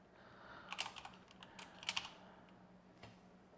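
Keys clatter on a computer keyboard in two quick bursts of typing with scattered single taps between, faint and close, with no talking.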